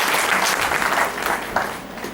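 Loud, dense applause from an audience at an alumni mega meet, steady clapping throughout as a crowd honours donors.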